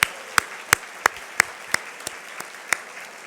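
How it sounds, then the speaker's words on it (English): Sparse, distinct claps at a breakfast gathering greeting ministry program staff, individual sharp hits spaced about every third of a second over a quiet room, moderately close. "they're getting applause."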